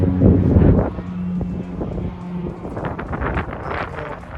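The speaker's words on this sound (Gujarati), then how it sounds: "દરિયા કિનારો છે, બહુ મસ્ત વ્યૂ છે અને પવન પણ બહુ સારો છે" Gusty, cold seaside wind in Canada buffets the microphone with a heavy rumble, strongest at the start, then continues in rough, uneven bursts.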